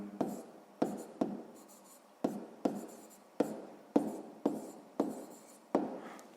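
Pen or chalk writing out the short form of a sixth-grade math word problem, a series of about ten separate scratchy strokes at an uneven rhythm, each starting sharply and fading, close and fairly faint with no talk.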